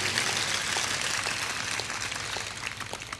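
A large audience at a Hindu satsang religious discourse applauds steadily, a dense wash of clapping that holds throughout and fades slightly at the end, with no voice over it.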